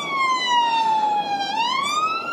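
Police car siren wails steadily, sweeping down then rising again, loud and fairly close along a street with tram tracks, with no one talking.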